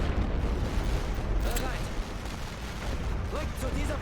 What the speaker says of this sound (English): Now I've got some artillery I can use